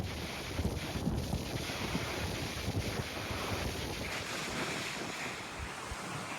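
Sea waves and gusty wind on a coastal golf course along the coast path near St Andrews, a dense, close roar of surf with heavy wind buffeting throughout.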